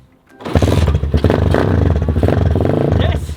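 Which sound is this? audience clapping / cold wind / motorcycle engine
motorcycle engine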